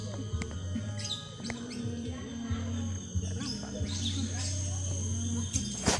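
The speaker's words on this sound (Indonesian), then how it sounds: "Burung apa itu?" Birds chirping at a zoo: scattered high, thin tweets and calls, fairly faint, under a low steady hum with people talking nearby.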